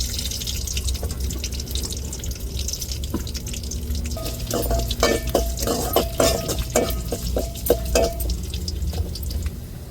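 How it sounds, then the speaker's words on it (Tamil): Mustard seeds, fenugreek and small shallots tempering in hot oil for an okra tamarind kuzhambu, giving a steady close sizzle with scattered sharp pops and crackles throughout, with no talking. "கடுகு நல்லா பொரிஞ்சிட்டு சின்ன வெங்காயத்தை சேர்த்துக்கிடுவோம் தாளிச்சுட்டு"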